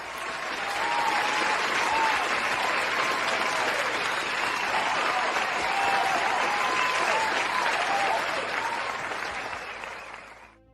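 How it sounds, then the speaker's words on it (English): A steady round of applause from a community audience at the close of a live show, dense and continuous at even volume for about ten seconds before tapering off at the end. "I just want to give you a quick round of applause"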